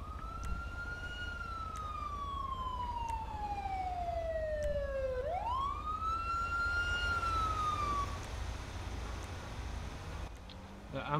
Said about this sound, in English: that was a fire engine I went past